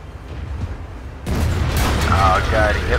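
Tank cannon shots and shell impacts in a World of Tanks battle, with a sudden loud broadband blast about a third of the way in and sustained heavy rumbling and clatter afterward. A voice talks over it.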